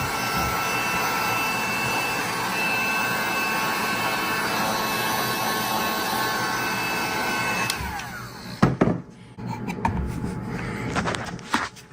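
A heat gun blows a loud, steady, close whoosh onto the trim of a Tesla Model X/S yoke for about eight seconds, then cuts off, followed by a few knocks and handling noises.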